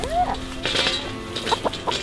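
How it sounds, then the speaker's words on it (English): A chicken being held in someone's hands gives a few short, close clucks and squawks over about two seconds. "Here's how you hold a chicken."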